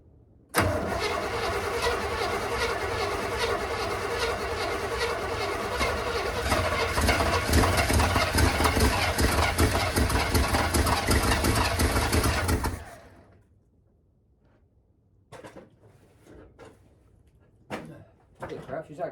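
An old vehicle engine is cranked continuously and loudly at close range for about twelve seconds, with a churning rhythm that catches and sputters before cutting out, followed by quiet and a few faint knocks.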